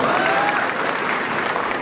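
A crowd bursts into loud, dense applause at a live satirical comedy gathering, the clapping steady and close.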